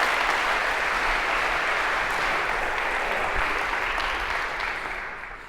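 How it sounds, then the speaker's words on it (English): An audience in a lecture hall applauding volunteers, a dense steady burst of clapping that holds loud for several seconds, then begins to taper off near the end. "A round of applause for our volunteers."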